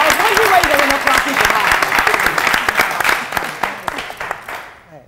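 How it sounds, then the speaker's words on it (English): An audience claps for a young girl in a studio, a loud and dense burst of applause that slowly thins into scattered claps before fading out, with voices mixed in early on. "I was wondering why you were not clapping"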